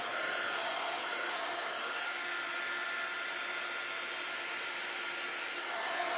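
A hair dryer blows steadily and close on a craft paint pen, a continuous whooshing whine with a faint tonal hum that holds level throughout.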